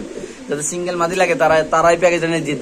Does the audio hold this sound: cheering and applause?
no